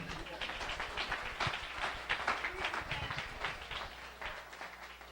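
A church congregation claps its hands, a soft, steady patter of many hands spread across the room, faint and continuous, with voices murmuring underneath.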